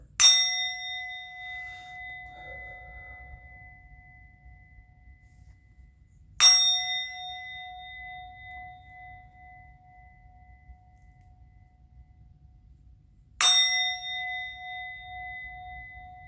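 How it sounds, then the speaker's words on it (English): A struck bell rings three times at wide, even intervals, each a bright clanging strike with a long, clear ringing decay over a faint low background hum. "I'm going to ring the bell."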